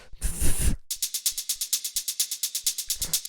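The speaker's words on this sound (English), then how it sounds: "the last hi-hat we have is this little shaker" A short shaker hi-hat sample in a Drumcode-style techno beat ticks in a steady run of about eighteen bright, crisp hits with staggered velocities, following a brief burst of broadband noise, alone and fairly close.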